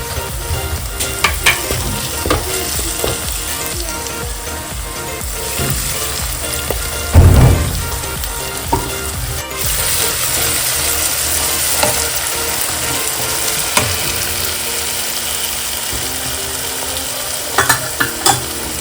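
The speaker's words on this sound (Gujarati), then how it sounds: "તો મસાલો આપણે તેલ છૂટું પડે ત્યાં સુધી હલાવશું." Masala of coriander-cumin powder, turmeric, salt and crushed chutney stirred and frying in oil for a Gujarati-style kangsha fish curry, a steady close sizzle with scraping spoon strokes and a sharper clatter midway.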